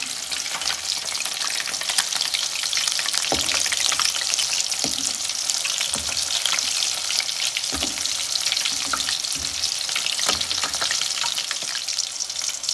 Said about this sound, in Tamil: இது ஒரு பக்கம் நல்லா கிறிஸ்பியாக ஃப்ரை ஆகிற வரைக்கும் இருக்கட்டும்.